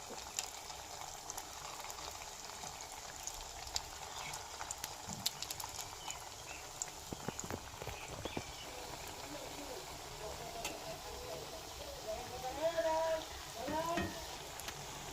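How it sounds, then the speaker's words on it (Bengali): Semolina rasmalai sweets fry one at a time in oil in a wok over medium heat, giving a steady soft bubbling sizzle with occasional clinks and light movement throughout. "মিডিয়াম আঁচে মিষ্টিগুলো এক এক করে দিয়ে ভালোভাবে ভেজে নেব"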